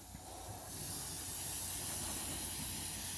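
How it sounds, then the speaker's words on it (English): Brake cleaner sprayed in a long continuous hiss onto an oily engine, starting softer and swelling to a steady close spray over low background rumble. "So what I'm going to do is just take some brake cream and spray this oil off,"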